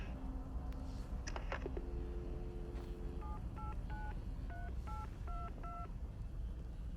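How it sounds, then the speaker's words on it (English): Telephone dialing tones in the video game Grounded: a short run of rapid beeps, then a slow sequence of distinct two-tone keypad presses over a faint steady background hiss. "Does hearing that dialing slightly piss anyone else off?"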